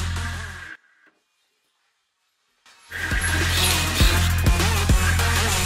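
Music plays loudly from a glass speaker, cuts out into near silence for about two seconds, then returns just as loud with thumping beats.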